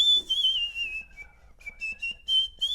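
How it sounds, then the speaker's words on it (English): Someone whistles a short melody alone, clear pure tones gliding and stepping between notes in a quiet room, with brief pauses between phrases. "That's the weirdest whistle."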